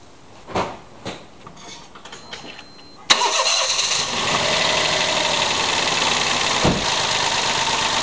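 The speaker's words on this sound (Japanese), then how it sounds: "エンジンをかけて同じことをやってみます" A few faint clicks, then a Daihatsu Tanto engine with an engine fault cranks and roars to life, settling into a loud, steady idle.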